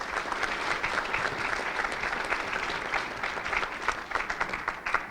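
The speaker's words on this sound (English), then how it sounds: "Let's give them another round of applause, please." An audience at a legislative forum applauds senators and sponsors, a dense, continuous wash of many hands clapping at moderate loudness that thins slightly toward the end.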